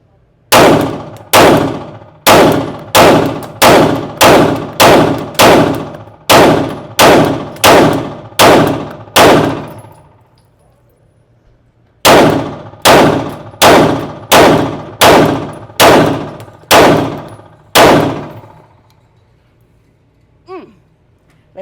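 A string of handgun shots from an everyday-carry pistol fired at a target, loud sharp cracks in two rapid, evenly spaced bursts of about ten shots each with a short pause between, ending in quiet.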